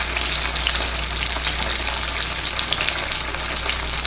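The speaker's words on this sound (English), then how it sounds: "So we're going to do a shallow fry." Chicken pieces shallow frying in hot oil at around 350 degrees, a dense, even, close sizzle and crackle that holds steady throughout with no voices.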